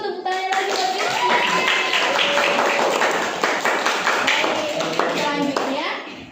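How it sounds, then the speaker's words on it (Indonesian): Classmates clap for a presenter during a biology class presentation on hepatitis, a dense patter of many hands at close range that runs steadily throughout with a few young voices mixed in. "boleh teman-teman tepuk tangan lagi buat Rizky."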